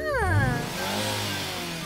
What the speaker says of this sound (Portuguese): Lili, vamos ouvir o seu motor.